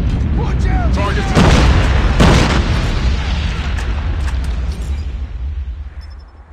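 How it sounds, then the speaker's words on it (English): Nuclear strike in a military shooter game, a loud rumbling boom that swells twice and then fades slowly away, with radio-style voices over it. "Warning, friendly nuke has been launched."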